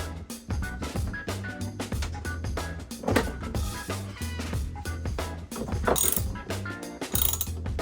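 A ratchet wrench tightens a battery terminal aboard a sailboat, its rapid clicking pawl running in quick bursts throughout, close and fairly loud against a steady tonal background.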